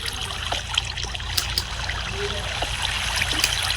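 Water trickles and drips steadily inside a Minecraft cave, a constant watery wash with scattered small plinks, loud and close throughout.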